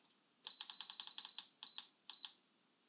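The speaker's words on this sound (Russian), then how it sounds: "При 35 градусах начнет зуммер пищать." W2809 thermostat controller buzzer beeps in quick bursts, a rapid run of short shrill pulses followed by two brief separate chirps, close and clear over quiet.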